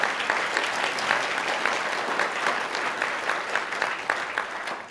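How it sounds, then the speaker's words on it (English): Sustained clapping from an audience at a homelessness summit honoring a speaker, Richard Lemieux, an even, moderately loud patter with slight pulses throughout. "Everybody, round of applause for Richard."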